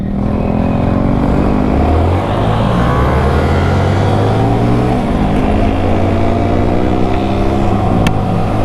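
Motorcycle on a test ride: a loud, close engine drones steadily and shifts pitch as it revs up and down, running continuously with no talking.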